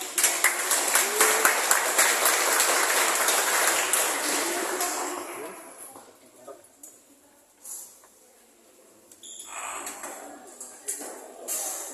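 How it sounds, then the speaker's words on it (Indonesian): Audience applause at an Indonesian church evangelisation meeting, a full round of clapping for about five seconds that fades out, followed by scattered claps, shuffling and brief murmurs. "Kita kasih tepuk tangan."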